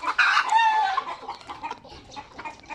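Hens cluck near a nest of eggs with a rooster-like call mixed in, a busy burst at first and then scattered softer clucks continuing close by.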